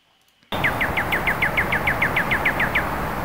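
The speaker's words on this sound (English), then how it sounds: "So this is a bird chirping." After a short silence a bird chirps in a fast regular series of about fifteen bright, identical notes, heard over a constant loud background hiss.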